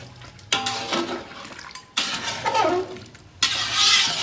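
Hot water poured into a pan of Bengali mutton curry with potatoes, three separate loud splashing pours with bubbling and stirring between them; no talk.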